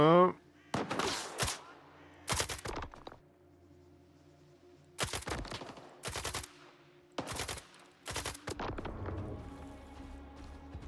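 Gunfire in the shooter game Stalker rings out in short bursts and single loud cracks spread across the stretch, separated by quieter gaps, with a voice talking briefly near the start.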